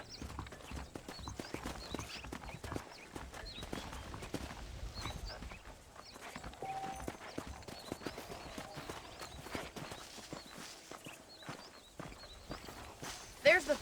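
Horse hooves clip-clop steadily throughout a Western scene in the video game Red Dead Redemption, a continuous walking rhythm heard under a man's speech and ambient game sound.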